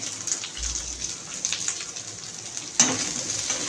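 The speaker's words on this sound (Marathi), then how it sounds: "आता आपण तेलावरती ना कांदा थोडासा परतून घ्यायचा आहे" Onion sautéing in oil in a kadhai, a steady close sizzle with stirring scrapes and a louder clatter toward the end, no talking.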